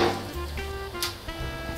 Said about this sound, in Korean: 오일이 약간 연기가 날 듯이 막 뜨거워졌을 때 팝콘을 넣고 퍼줍니다.